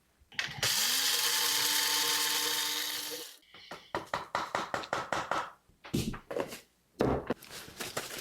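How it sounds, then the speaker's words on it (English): An electric spice grinder whirs loudly and steadily for about three seconds as it grinds toasted spices for Turkish sudjuk sausage, followed by a run of quick tapping and knocking sounds. "Now I'm just going to go grind up those spices that are toasting"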